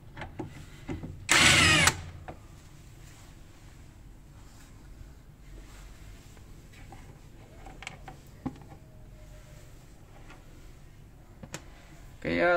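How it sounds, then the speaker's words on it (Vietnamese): A power driver whirs loudly for under a second as it backs screws out of a range hood's cover, followed by quiet handling and light taps, with another short burst at the end. "Thì các bạn cần tháo hai cái con ốc ở phía trên này ra."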